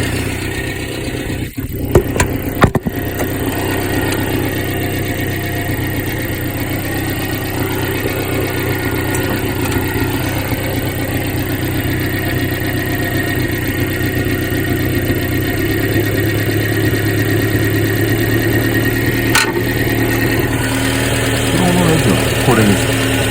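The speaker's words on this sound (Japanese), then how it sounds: "もうちょっとアイドリング高くていいかな。" Subaru Sambar engine idling after its carburetor was cleaned and adjusted, a steady close mechanical drone with a slight rise in pitch partway through, a few clicks early on, and a person talking over it.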